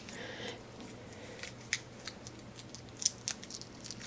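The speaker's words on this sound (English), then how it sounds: "I'm gonna cut this like this, get that edge off." Scissors snip through a slice of Gusta vegan pepperoni in a few small, quiet, crisp cuts spread across a few seconds, close to the mic in a quiet room.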